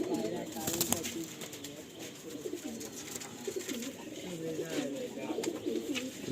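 Pigeons cooing in a loft, several soft repeated coos overlapping close by, with someone talking over them.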